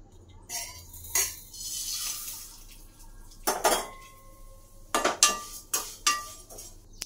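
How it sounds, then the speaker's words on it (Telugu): Vermicelli is roasted in a pan for semiya payasam, with metal spoon scrapes, clinks and clatters of cookware in close, irregular bursts against a quiet background and no speech. "తర్వాత సేమియా కూడా బాగా ఎర్రగా అయ్యేంత వరకు వేపుదాము."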